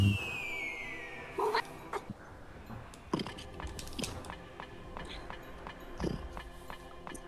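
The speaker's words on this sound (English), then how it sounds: "He's a little meowing dude" A pet cat named Edward gives a few short meows spread across the stretch, faint and close in a quiet room with light background noise.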